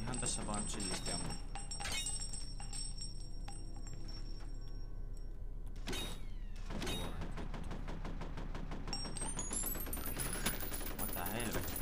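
Gunfire in the shooter game F.E.A.R., with bursts of automatic weapon fire and scattered shots amid game noise while someone talks over it.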